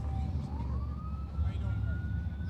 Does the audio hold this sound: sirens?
yes